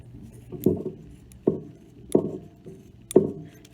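Scissors snip through craft foam while shaping a watermelon-slice squishy, four separate crisp cuts spaced about a second apart, each a short close crunch, with quiet in between.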